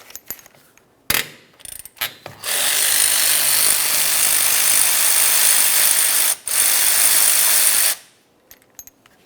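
A 13mm ratchet or power tool working on the caliper slider bolts of a Ram 2500 pickup: a few short clicks, then a loud sustained whirring burst of several seconds, a brief pause, another burst, then light clinks.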